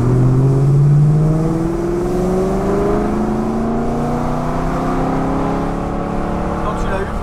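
A BMW sports car engine and exhaust revving, its pitch climbing in repeated rising sweeps, loud and close throughout with a steady harmonic drone.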